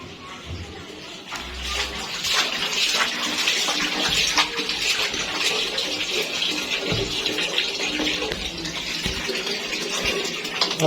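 Water runs steadily from a tap into a tub while a cat is being bathed at home, a continuous close splashing rush with faint muffled voices in the background.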